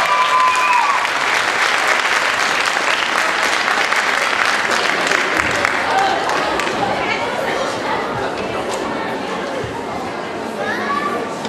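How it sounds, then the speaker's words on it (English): Loud sustained applause from a school music concert audience for a high school band, dense clapping mixed with cheers and crowd chatter, running unbroken throughout. "Can we have a round of applause from the high school band?"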